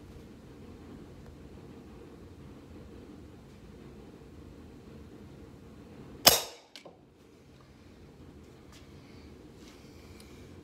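Mil-spec rifle trigger pulled once, giving a single sharp, loud metallic snap near the middle, followed by a smaller click a moment later, over quiet background hiss.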